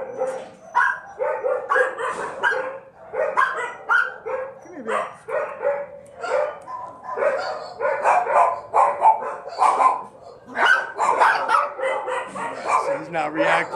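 A dog at a kennel barks repeatedly in quick bursts, mixed with yips and whimpers, loud and close, with people talking over it.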